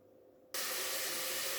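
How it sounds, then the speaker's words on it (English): A loud, steady rushing hiss starts abruptly and holds, like water at a rolling boil in a pan, with no talking. "Water's boiling"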